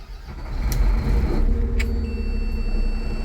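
A city bus that had refused to start turns over after repair, and its diesel engine settles into a steady low rumble with faint high beeps over it.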